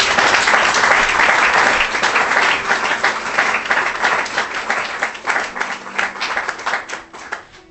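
A church congregation applauds to acclaim the Lord, with dense, loud clapping from many hands that thins into a fading rhythmic patter.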